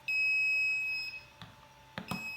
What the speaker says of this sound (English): we have LED flashing, we have sound and also vibration to indicate to the nurse that a patient has a need of assistance